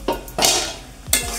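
A metal lid set down over a pot of simmering fish curry with potatoes and flat beans: a few sharp clanks and scrapes of metal on metal, close and fairly loud, with no talking.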